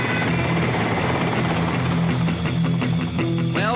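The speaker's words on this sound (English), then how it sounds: "I thought it was a plane by the way it was humming. I'd been caught by a helicopter in the CHP." Helicopter sound effect within a novelty rock-and-roll song, a steady whirring rotor drone running continuously and loud throughout, with the music underneath.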